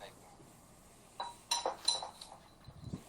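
A drinking glass is handled to trap a fly, giving a few light clinks and taps of glass in a quiet room, faint and scattered over a few seconds.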